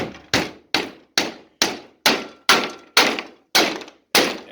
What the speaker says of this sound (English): So there's a lot of pounding, but a lot of banging.